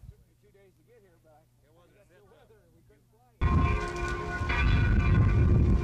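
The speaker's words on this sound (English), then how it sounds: "As the noon bell tolled in Worthington, cleanup crews prepared to take a break." A church bell in Worthington, Iowa tolls at noon, heard first faintly beneath a voice and then as loud ringing with a dense resonant clang and broad outdoor rumble.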